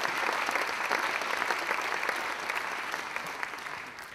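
An audience at a science award celebration applauds, a steady wash of clapping from many hands that gradually eases off toward the end.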